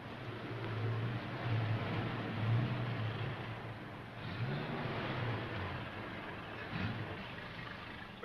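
An Acme truck pulls away with a low, steady engine drone, rising slightly in a couple of places and staying moderately distant throughout.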